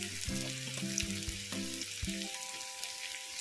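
Thinly sliced onions shallow-fry to light brown for chicken biryani, a continuous bright sizzle and crackle heard under background music.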